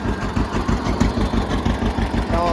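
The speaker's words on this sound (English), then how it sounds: "John Deere 60 putting away. Sounds really nice." A John Deere 60 tractor engine runs steadily at an outdoor farm auction, a loud low chugging throb with a rhythmic pulse, close by, joined by a faint voice in the background.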